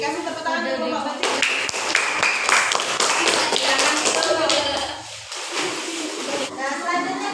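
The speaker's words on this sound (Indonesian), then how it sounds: "Kasih tepuk tangan untuk kelompok batik." Schoolchildren in a classroom clap for the batik group, a loud, sustained burst of applause lasting several seconds, briefly dipping before picking back up, with a few voices underneath.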